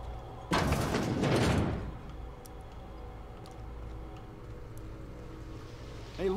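A door in The Outer Worlds opens with a loud mechanical whoosh and grinding slide lasting about a second. A quiet ambient hum and faint ticks follow.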